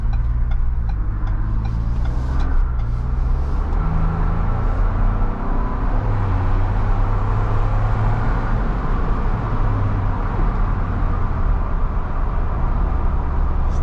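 A 2022 Ford Bronco Badlands with a roughly 330-horsepower engine drives along into the evening, its engine droning loud and steady under continuous road and tire noise, shifting pitch now and then with no one speaking.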